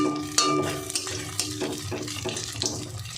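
Oil sizzles and spits softly as egg-shaped vegetarian patties made of chhana (paneer) fry one at a time, with intermittent scraping and stirring knocks in a pan; steady, close and moderate in level.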